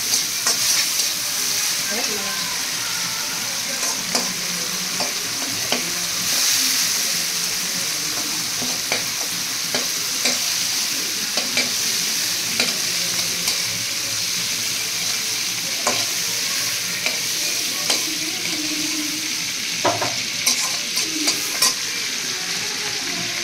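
Food fries in a pan with a constant bright sizzle, broken by frequent sharp scrapes and knocks as it is stirred, close and steady throughout with no voices.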